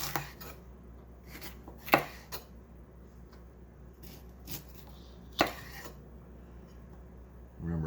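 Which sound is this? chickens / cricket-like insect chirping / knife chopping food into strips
knife chopping food into strips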